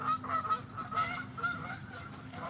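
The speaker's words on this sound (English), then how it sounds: "these damn geese out here" Geese honking outdoors in a repeated, uneven series of calls, moderately close and fairly loud against a steady low background hum.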